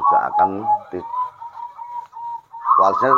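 Zebra dove (perkutut) kept as a breeding bird gives a rhythmic cooing call, close and clear, with someone speaking over the start and end.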